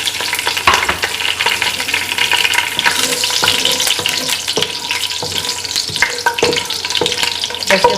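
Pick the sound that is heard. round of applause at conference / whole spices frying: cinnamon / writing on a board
whole spices frying: cinnamon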